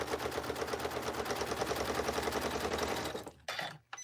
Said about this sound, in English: Okay, so let's just keep stitching down.